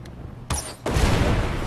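A fire arrow detonates in the Far Cry 4 video game: a sharp crack followed by a loud, sustained explosive boom and rumbling roar, close and dominant.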